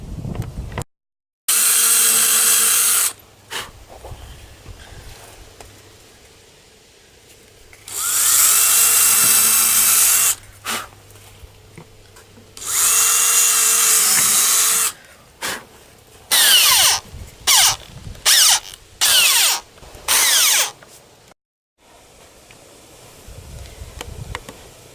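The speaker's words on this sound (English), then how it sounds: "I'm going to drill a couple of small pilot holes in there too." A power drill boring small pilot holes in wood outdoors, heard as several loud whining bursts of a few seconds each, then a quick series of short pulses, separated by quiet gaps.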